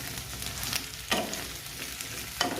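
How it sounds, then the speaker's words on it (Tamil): Brinjal (eggplant) pieces fry in oil in a pan, a continuous soft sizzle with a couple of louder scraping stirs breaking through, close and fairly quiet. "கத்திரிக்காய் இந்த ஆயிலே நல்லா ஃப்ரை பண்ணணும்."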